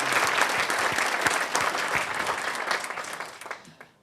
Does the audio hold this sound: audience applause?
yes